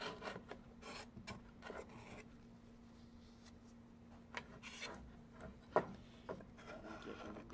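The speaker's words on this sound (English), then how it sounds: "Glue squeeze out with my scraper here." A scraper drawn repeatedly across wood, taking glue squeeze-out off a luthier's adjustable neck rest, gives quiet, close rasping strokes in an irregular rhythm, with one sharper click near the end.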